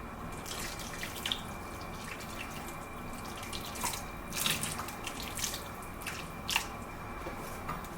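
Hot water poured over a whole red golden-eye snapper in a sink or basin, an ongoing splashing trickle with irregular drips and wet slaps, close and moderately quiet, with no talking.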